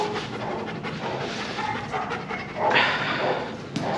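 A dog pants rapidly and continuously at a doggy day camp, close and fairly loud, with other dogs and faint background activity around it.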